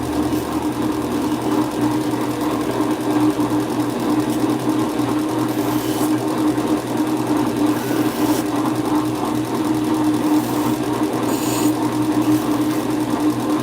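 A grinder shaping knife handles runs continuously with a steady, loud motor drone, with a few brief higher scraping bursts.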